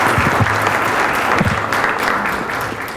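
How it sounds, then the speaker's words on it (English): Audience applause at a business development conference, a dense, steady patter of many hands clapping that fills the room and tapers slightly toward the end, with no voices over it. "Let's give them all a round of applause."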